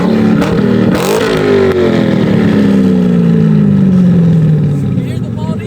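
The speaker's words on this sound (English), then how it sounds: "But first, let me rev the car." A straight-piped JDM Corvette engine revving loudly and close, its note rising sharply then winding down in a long falling drone; voices talk over it.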